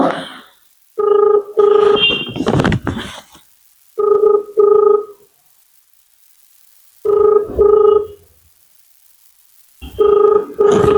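A telephone rings loudly in repeated double bursts separated by pauses, with a brief voice heard early on.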